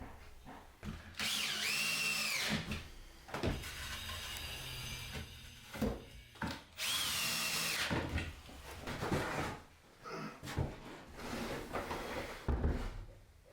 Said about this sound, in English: Now I just need to get them joined together by getting the front slats screwed and glued into place.